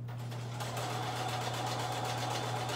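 Close, steady whir of a sewing machine stitching binding onto a small Christmas quilted wall hanging, a fast even needle rhythm running the whole time without talk.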